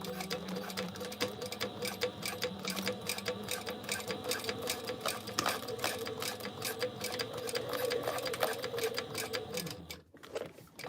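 A sewing machine runs a quarter-inch seam on a boxy crossbody bag, chattering in a fast, steady mechanical rhythm at close range for about ten seconds before stopping. A voice speaks faintly underneath.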